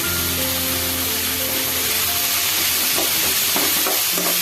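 Ivy gourd fries in a pan with jaggery and turmeric, giving a dense, steady sizzle that fills the whole clip while it is stirred, close and loud, with no voices.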